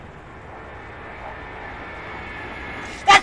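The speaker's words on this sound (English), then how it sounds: "Are you kidding me? Another jet?" Jet aircraft flying over in the Arma 3 video game, a steady distant engine rumble followed by a sudden loud burst at the very end.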